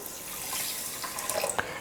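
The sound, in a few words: water poured into pan for Mysore pak sugar syrup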